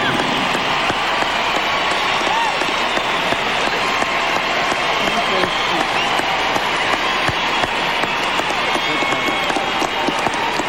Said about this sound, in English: Her brother and sister applaud.